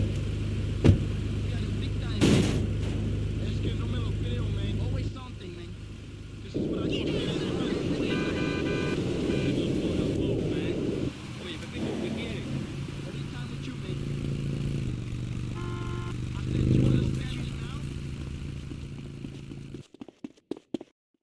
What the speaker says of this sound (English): Keep driving around the block, okay?